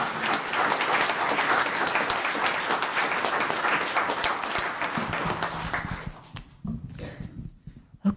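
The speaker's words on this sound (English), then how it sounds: "Round of applause, please." Audience applause at a town council meeting after a proclamation, a dense round of clapping that holds steady for several seconds, then thins out into scattered claps and small room noises before stopping.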